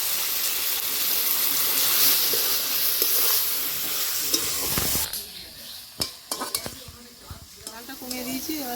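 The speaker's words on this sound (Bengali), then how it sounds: "একটু মশলা জলটা দিয়ে দিচ্ছি" Spiced water splashes into a pan of tomatoes frying in hot oil. A dense, loud sizzle turns into a burst of hissing and bubbling, then settles into uneven crackles and pops with spoon scrapes against the pan.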